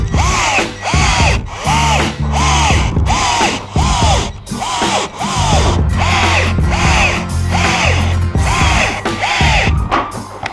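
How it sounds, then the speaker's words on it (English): Power drill driving screws into plywood boards for a DIY plywood boat, in a steady series of loud, close whirring bursts, each rising and cutting off as a screw seats, with brief pauses between. "we've put 28 screws in there to hold that together"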